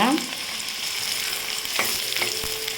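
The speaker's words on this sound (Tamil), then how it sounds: "வெங்காயத்தை சேர்த்து நல்லா வதக்கிக்கோங்க" Onions frying in a pan with oil and popped mustard seeds, a loud close sizzle over which a spatula scrapes and stirs a few times, with no voices.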